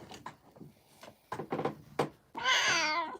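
Persian cat called Blue, twelve years old, gives a short series of soft chirps and brief meows indoors, then a long, loud drawn-out meow at the end, with no voices over it.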